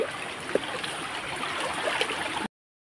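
A small stream near a village dam flows with a steady soft rush and gurgle, close by and uninterrupted for about two and a half seconds before cutting to silence.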